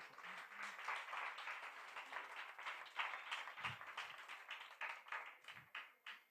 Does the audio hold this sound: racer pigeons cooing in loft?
no